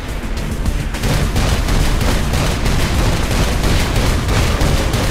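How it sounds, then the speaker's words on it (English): Sustained gunfire from Saints Row IV, a rapid, dense fusillade of shots running continuously and loudly throughout with no pauses. "I'll shoot down every last one of you!"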